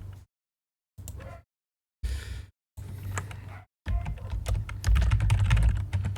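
Computer keyboard typing in short separated bursts of key clicks, then a longer dense run of rapid keystrokes, close and crisp with silent gaps between the early bursts.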